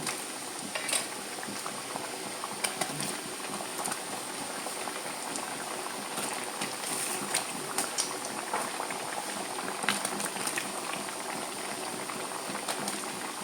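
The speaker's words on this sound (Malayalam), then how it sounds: "ഞാനിപ്പം വെളിച്ചെണ്ണയ്ക്കകത്താണ് വറുക്കുന്നത്" Banana chips fry in hot coconut oil for homemade Onam snacks, a dense continuous bubbling crackle with scattered sharper pops, steady and close, without talk.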